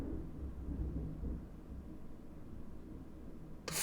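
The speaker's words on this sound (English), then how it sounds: "Is that thunder?" Low, steady thunder rumbling fills the background as a dull, continuous roar with no talking, then a sudden broadband burst at the very end.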